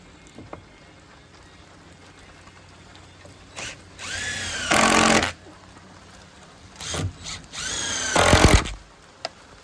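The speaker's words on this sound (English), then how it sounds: "Let's go ahead and drive 2 screws in there" A power drill spins up twice in strong bursts, driving screws into wood on a soffit bird box, with small knocks and quiet pauses between.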